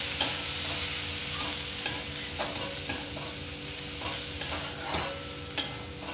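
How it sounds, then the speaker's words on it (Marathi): Ivy gourd bhaji with crushed peanuts stir-fried in a pan, a soft steady sizzle broken by several sharp clacks and scrapes of a spatula tossing the vegetables. "आता आपण हा दाण्याचा कूट यावर घालूया। व्यवस्थित परतून घेऊया।"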